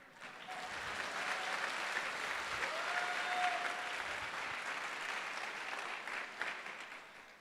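A congregation at a Hindi church service breaks into sustained applause, a dense, even wash of clapping lasting several seconds, heard at moderate distance without speech.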